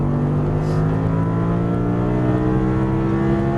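Audi R8 V10 accelerating hard on a Las Vegas racetrack, a loud, sustained engine howl with rising harmonic tones, heard from inside the car.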